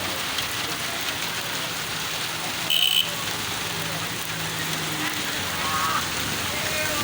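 Heavy rain pours over a street in Pindi's Peoples Colony, a steady dense hiss that holds evenly throughout, with one brief sharper burst near the middle.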